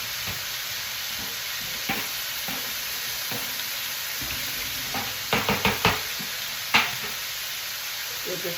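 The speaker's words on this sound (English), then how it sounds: "Give this another stir." Vegetables for a stir-fry, carrots among them, sizzle steadily in a hot pan while a utensil stirs and knocks against it, with a few sharp clacks clustered near the end and no talk over it.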